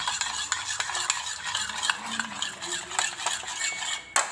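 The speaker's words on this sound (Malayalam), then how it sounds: "ഇനി നമുക്കിതൊന്ന് ഇളക്കിയെടുക്കാം" A shawarma filling mixture with salt stirred in a bowl or pan, brisk continuous scraping and tapping strokes of a spoon over a light sizzling hiss, close and alone with no speech.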